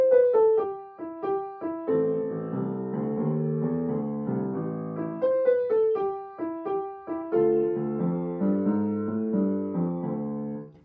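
A piece played plainly on piano with no flair, an even swing melody over steady chords and bass, continuous for about eleven seconds with no talking.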